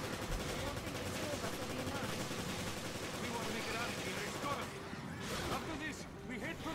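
Submachine gun fire from Resident Evil Revelations: dense, continuous automatic bursts across the clip, loud and busy, with game dialogue mixed in underneath.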